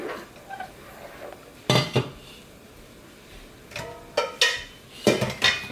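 Rice balls go into a simmering pot of Korean red bean porridge, heard as a few scattered metallic clinks and knocks of utensils against the pot over a quiet background, with no talking.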